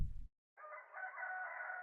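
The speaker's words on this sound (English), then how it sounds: "a rooster's song reaches your ears, followed by barks and loud cursing." A rooster crows once, loud and close, in a single sustained call after a brief low rumble and a short pause, in the video game Sigh of the Abyss.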